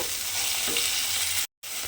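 Tomato fries and is stirred in a pan, giving a dense close sizzle with scraping stir strokes and a brief dropout near the end.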